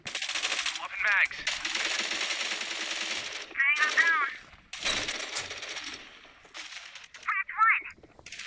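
Rapid automatic gunfire from the mobile FPS game Matr1x Fire, in several loud bursts with brief gaps, mixed with metallic clinks of shell casings and game effects; someone talks between the volleys.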